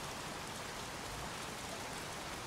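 Steady rain pours in the video game Heavy Rain, a dense, even hiss of drops striking surfaces, continuous and moderately loud with no voices.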